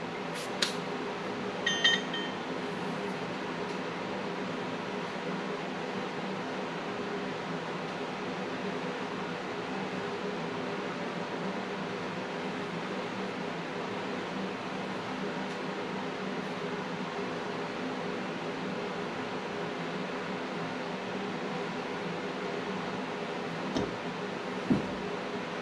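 An ultrasonic cleaner running with carburetor parts from a 1948 Harley-Davidson WL Flathead soaking inside, a steady close hum and hiss that continues unchanged for over twenty seconds, broken by a few faint clicks.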